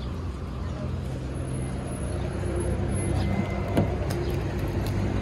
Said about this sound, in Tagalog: Traffic is real.